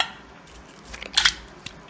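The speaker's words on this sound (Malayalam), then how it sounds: "അതിലേക്ക് കുറച്ച് ഐസ് ഇടുന്നുണ്ട്" Ice goes into a vessel of cold water, giving a few quiet clinks and rattles, with one brighter knock in the middle over a faint background.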